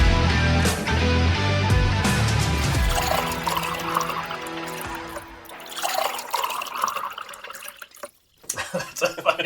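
A drink is poured generously into a glass, a sustained gurgling, splashing fill that runs close and loud for several seconds, then tapers into faint drips and clinks amid background chatter.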